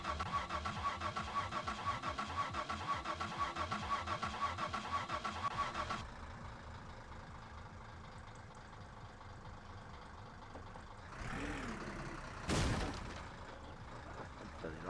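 A van engine in My Summer Car runs loudly and roughly, then drops to a quieter idle. It briefly revs and surges near the end, with no talk over it.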